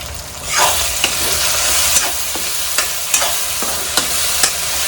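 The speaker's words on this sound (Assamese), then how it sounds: "ইয়াত দিম এতিয়া কেঁচা জলকীয়া।" Raw green chilies fry in masala for a pork curry, giving a loud, continuous hiss with a sudden surge of sizzling as they hit the hot pan, then sharp periodic scrapes of stirring.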